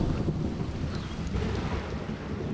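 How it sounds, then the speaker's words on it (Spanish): Torrential monsoon-season rain pours steadily in rural eastern Sri Lanka, a dense continuous roar with low rumbling thunder underneath and no voices. "Caía una lluvia torrencial."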